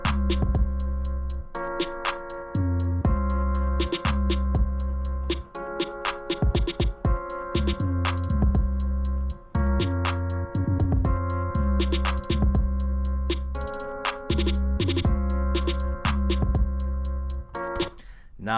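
A sample loop at 118 tempo plays alongside a MIDI drum kit, producing steady layered melodic tones over a deep sustained bass and regular drum hits, with continuous loud playback and no speech.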